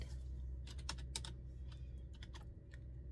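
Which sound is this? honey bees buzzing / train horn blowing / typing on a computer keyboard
typing on a computer keyboard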